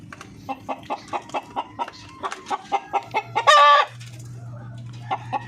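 Darag breeder chickens clucking in a steady rhythmic series of short clucks, close and clear, with a louder rising crow-like call partway through and a low hum beneath.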